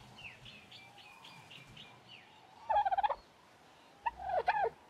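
Chicken-like clucking and gobbling calls of dodos in the Ark Survival Evolved video game, a soft chirpy series at first, then two louder bursts of rapid clucks near the end, with no speech.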